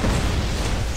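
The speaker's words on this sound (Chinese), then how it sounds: "踩一个就爆炸" Anti-mech mine detonating in the video game Nizhan, a loud, dense rumbling blast that fills the whole second, with a brighter burst flaring at the very end.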